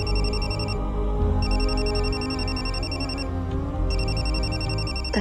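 Telephone ringing in a home scene of a Marathi TV serial, an electronic ring that repeats in loud bursts with short gaps over a constant low background hum, no talking.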